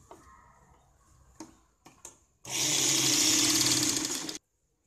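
Sewing machine stitching a blouse lining: a few scattered clicks and handling taps, then a loud, steady two-second whirring run of stitching that cuts off abruptly.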